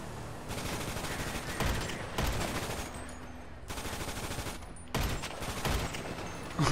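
Sustained rapid gunfire in GTA 5, dense overlapping automatic bursts that run nearly continuously and swell in loud waves with brief lulls.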